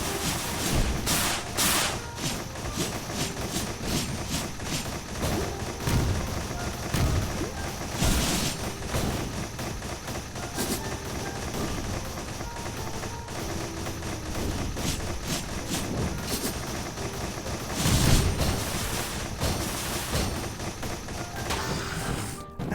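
Missiles fire and explode in a video game, with repeated booms and thuds scattered across a busy, loud battle mix, some blasts standing out sharply above the constant clatter.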